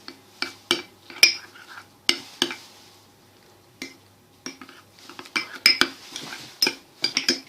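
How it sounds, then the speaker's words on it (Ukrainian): A spoon clinks and scrapes against a bowl in irregular bursts, close by, as tomato paste sauce with chopped garlic is stirred and mixed. "Все перемішуємо."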